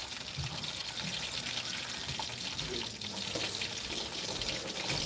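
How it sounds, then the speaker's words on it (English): A kitchen tap runs constantly while sugar dumpling fritters are being made, a steady hiss of pouring water with no breaks. "why are you running the water constantly like that?"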